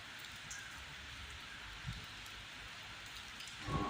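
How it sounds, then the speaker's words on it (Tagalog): Steady, dense heavy rain hiss heard from beneath a building fills the whole stretch, a continuous wash of falling water with a few louder patters near the end and no talking. "malakas ang ulan"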